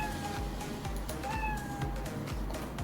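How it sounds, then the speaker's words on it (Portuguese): Cartoon cat meow sound effect from a Scratch programming project, a clear synthetic meow heard alone over a steady low hum, with no talk. "ele dá um som de miado."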